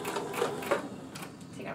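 A sewing machine top stitches chiffon fabric onto a stretch t-shirt close to the edge, giving a brief soft run of quick whirring stitches, fairly quiet and near.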